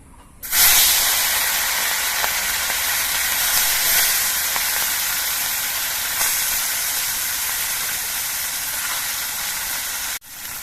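Small mourala fish from the Ganges drop into hot oil in a wok, setting off a loud, sudden, sustained hissing sizzle that stays strong and close for several seconds before cutting off.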